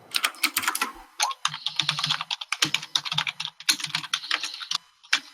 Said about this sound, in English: I forgot to mute my mic because of typing